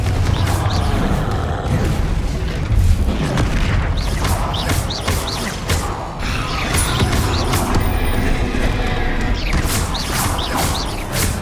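Repeated Confringo fire-blast spells in the Hogwarts Legacy video game, with dense booming explosions, crackling impacts and mechanical clatter packed continuously over busy game music and effects, loud throughout.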